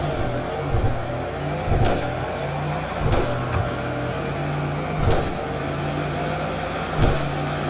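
Car engine in the Roblox game GV hums steadily with a tonal drone, broken by several short bursts of revving throughout, with no talking.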